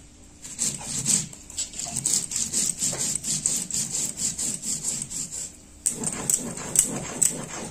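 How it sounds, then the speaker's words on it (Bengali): White mustard seeds are ground on a flat grinding stone, making close, rhythmic rasping scrapes as the stone is rubbed back and forth in quick repeated strokes, with a brief pause before the rubbing resumes. "এই যে এখানে সাদা সর্ষে নিয়েছি, নিয়ে এখন শিলে এটা বেটে নিচ্ছি।"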